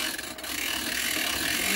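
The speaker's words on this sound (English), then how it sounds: "I'm going to wind it up and you can hear it" The crank of a Freeplay clockwork radio is wound against its large steel flat spring, producing a continuous, close-up ratcheting rasp that stays steady throughout with no talk.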